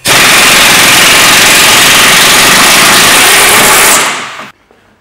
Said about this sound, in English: I'm going to see if I can get the rest of it out of the air gun.